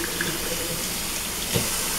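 Tap water runs steadily while a Yorkie's hair is wetted during a bath, a close, constant rushing flow with a brief splash near the end.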